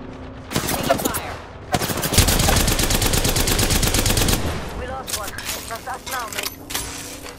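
Automatic gunfire rattles in a fast, sustained burst during an Apex Legends ranked battle royale match, loud and near, with shorter shots before and after. Game effects and a voice are mixed in.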